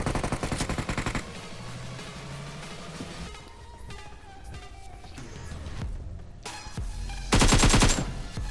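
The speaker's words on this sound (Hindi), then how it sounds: "बंदा दिख जाता है तो मैं यहाँ से फायर करता हूँ" Rapid bursts of automatic gunfire in the video game BGMI, loud rattling volleys at the start, scattered shots and game effects in between, then another heavy burst near the end, with no talking.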